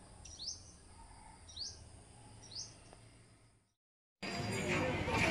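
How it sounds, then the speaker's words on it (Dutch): Birds chirping at a quiet spot in Pai, Thailand: three evenly spaced, faint sweeping calls over a soft bed of insect and cricket hiss, then a sudden gap of silence and a louder burst of rustling noise. "Het is zo lekker stil en alleen nog de vogeltjes"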